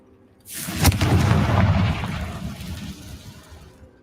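A Confringo blast spell explodes in Hogwarts Legacy, a sudden loud boom with a sharp crack that rolls into a long rumbling tail and fades over about three seconds.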